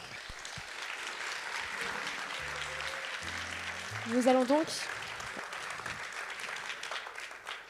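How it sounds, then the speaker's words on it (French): An audience at a closing ceremony for a 2023 festival applauds the teams, with steady applause throughout under a host speaking over a public-address system. "on peut les applaudir encore une fois."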